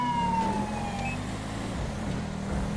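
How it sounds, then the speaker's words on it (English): A police siren in a video game wails with a slowly falling tone amid a steady engine rumble and background noise, fairly faint and continuous, with no talking. "Nobody care for the siren"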